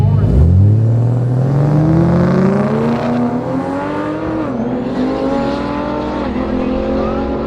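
Several race cars run wheel to wheel on a circuit, engines revving and rising in pitch as they accelerate together, loud and close, with a commentator's voice partly over them.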